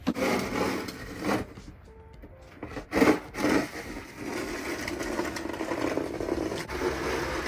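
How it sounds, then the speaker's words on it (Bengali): A shovel clearing heavy snow outdoors, repeated rough scraping pushes with brief pauses between strokes. "আমাদের বেলচা দিয়েই করতে হবে তো তার জন্য এখন তাড়াতাড়ি বেরিয়ে পরিষ্কার করে নিচ্ছি"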